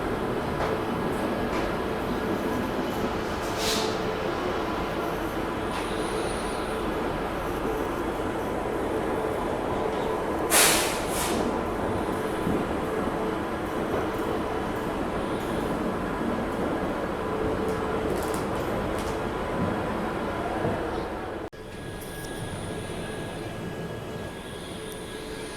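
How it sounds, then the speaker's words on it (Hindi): Inside a Jan Shatabdi Express train pulled by a WAP 7 electric locomotive as it departs Vadodara Junction, a steady rumbling roll goes on continuously, with a few brief sharp squeals and a sudden drop in level near the end. "ठीक 3 मिनट के हॉल्ट के बाद हमारी ट्रेन वडोदरा जंक्शन से डिपार्चर ले चुकी है।"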